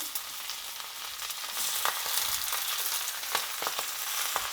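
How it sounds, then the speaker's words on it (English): Vegetables hitting a hot pan with garlic, a steady broad sizzle that swells louder partway through, with occasional sharper crackles and pops close by and no talking. "we're going to now put our vegetables in"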